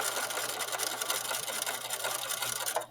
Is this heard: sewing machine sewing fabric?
yes